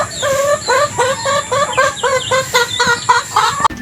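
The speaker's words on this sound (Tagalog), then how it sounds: "Ito na po yung ating native na manok." A native hen clucks rapidly and repeatedly up close, a steady run of short, nasal calls in quick rhythm with no talking, ending with a brief knock.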